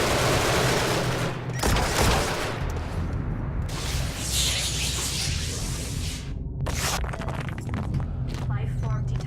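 Turret fire aboard a spaceship in Genesis Alpha One: sustained loud rattling bursts with booming impacts and whooshes, briefly pausing before resuming, with voices talking over the shooting.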